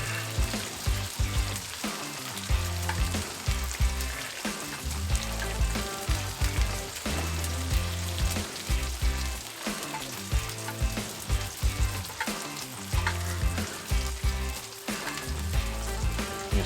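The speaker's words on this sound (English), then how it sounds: "we'll get this bread down and we'll start toasting it. Get some butter on him." Buttered bread toasting on a Blackstone griddle, a loud continuous sizzle and crackle held close for a long stretch, with faint music underneath.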